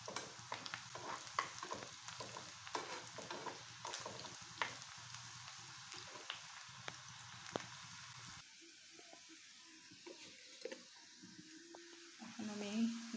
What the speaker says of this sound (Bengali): যেমন পাতুরিতে মশলা তৈরি করতে হয় ঠিক সেভাবে ভেজে নেব লাল লাল করে